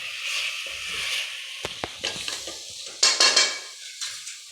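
Mushrooms go into a frying pan for mushroom biryani, bringing close sizzling, a few sharp clinks of a utensil against the pan, and stirring scrapes.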